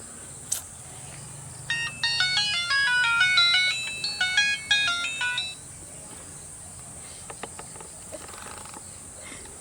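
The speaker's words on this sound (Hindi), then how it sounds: "फोन कला गुरगुराइ छै।" A mobile phone rings with a bright electronic melody of rapid beeping tones for a few seconds, fairly close, then stops, leaving faint background noise and a few clicks.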